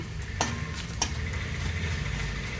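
Tempering of spices and asafoetida frying steadily in hot oil for a tomato roti chutney, a continuous close sizzle with a couple of sharp utensil clinks, no talking.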